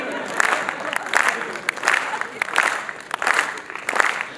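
Audience applause at a Hindi kavi sammelan poetry recital in 2023, dense clapping swelling in several waves across the whole stretch, moderately loud and fairly close, with no speech over it.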